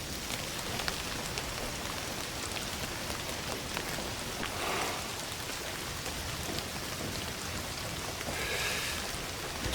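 In Indiana Jones and the Great Circle, rain patters continuously on surfaces as a soft, even hiss of drops, fairly quiet and unbroken, with slight swells now and then.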